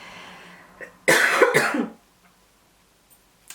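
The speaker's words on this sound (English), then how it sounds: "I can't stop coughing" A short burst of harsh, raspy coughing up close, several hacking coughs run together, then quiet with a few faint small noises.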